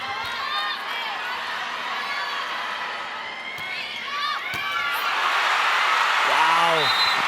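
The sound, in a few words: volleyball crowd cheering after Creamline's run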